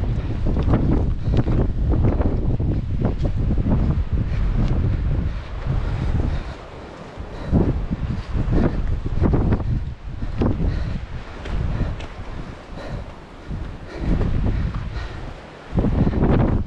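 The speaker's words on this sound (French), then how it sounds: "Et toujours le petit vent." Steady wind buffets the microphone during a trail running race, a loud continuous rushing roar with gusty swells and brief lulls, heard alone without voices.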